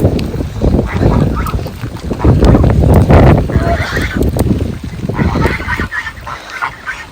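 A flock of geese honks close by in wet weather, overlapping loud nasal calls and cackles in continuous chatter that thins out toward the end.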